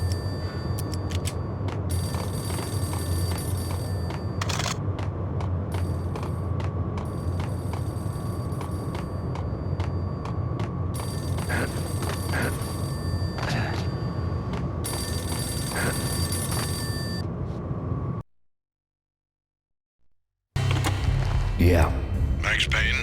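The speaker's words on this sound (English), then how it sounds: "A payphone started to ring." In the Max Payne PS2 game, a payphone rings repeatedly in bursts over a steady ambient hum, then the sound cuts out briefly before noise returns.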